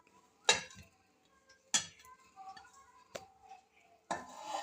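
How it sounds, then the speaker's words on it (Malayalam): Chopped banana pieces dropped into a bowl, giving a few sharp separate clinks and knocks against the bowl spaced across a quiet kitchen, with soft shuffling between them. "ഇനി നമുക്ക് പഴം മിക്സ് ചെയ്യാനായിട്ട് ഈ ഒരു ബൗൾ എടുക്കാം അതിലേക്ക് നമുക്ക് പഴം ഇടാം"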